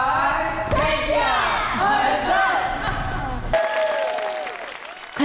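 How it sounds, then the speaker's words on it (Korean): Big audience applause breaks out after student teams present at the world DI (Destination Imagination) creativity competition, a dense, steady wash of clapping with crowd noise that thins toward the end. "관객들에게 우리 학생들의 노력이 전달됐는지 미소 어린 큰 박수가 이어졌다."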